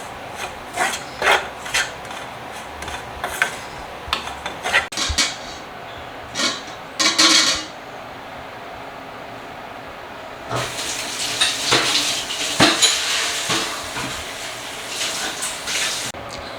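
Coconut with spices dry-roasts in a pan over a low flame for stingray fish curry, heard as bursts of dry rasping scrapes, a quiet pause, then a longer run of scraping.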